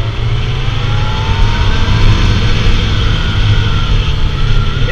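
A Kawasaki Z900 A2 motorcycle engine held at full throttle, a loud, steady, close drone with a low rumble and rising tone as it slowly gathers speed, with no talk over it.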